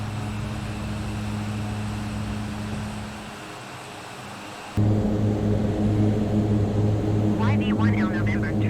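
Mitsubishi MU-2 turboprop engines in a takeoff climb, a steady loud droning hum with strong low tones that shifts and swells midway, heard from inside the aircraft, with a brief faint voice-like warble near the end.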